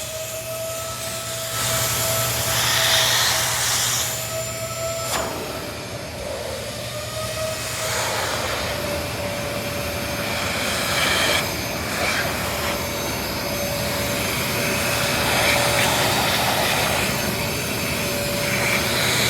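A Vacmaster Professional Beast shop vac sucks up dirt in a garage, its loud steady motor roar with a whistling tone running for nearly twenty seconds, rising and dipping slightly as the nozzle moves.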